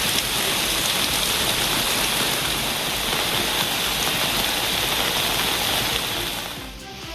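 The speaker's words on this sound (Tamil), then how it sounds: "சிவகங்கை மாவட்டம் காரைக்குடி சுற்றுவட்டார பகுதிகளில் 2வது நாளாக பலத்த மழை பெய்ததில் சாலைகளில் மழைநீர்" Heavy rain pours down in Karaikudi as rainwater floods the roads, a dense, even hiss of drops and rushing water that stays loud and constant before easing slightly at the very end.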